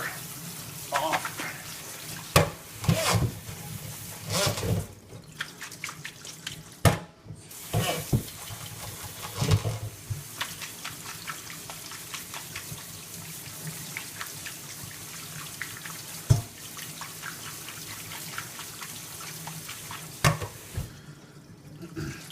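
Tap water splashing into a sink while broccoli florets are rinsed, a continuous hiss broken by irregular louder splashes and clatters as the florets are handled.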